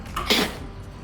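A single short sneeze, close and fairly loud, bursting out and fading within a second.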